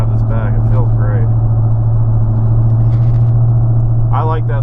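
A 2013 Ford F-150 truck with a loud exhaust holds a constant low, throaty hum while cruising, and someone speaks briefly over the engine noise at the beginning and again at the end.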